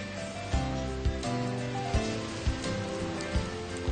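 Rain falls steadily during an outing with a young child and his father, a constant patter with soft thumps and a low tonal hum underneath, no voices.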